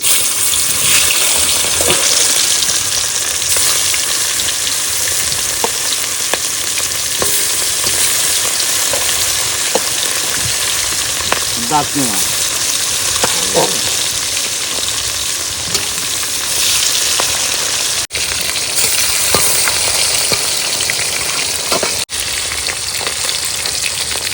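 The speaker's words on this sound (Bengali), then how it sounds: "তেল গরম হয়ে গেছে এবার দিয়ে দেবো মাছ" Turmeric- and salt-coated fish frying in hot oil in a wok beside the Matla River, a loud, continuous roaring sizzle that runs unbroken with scattered spatters.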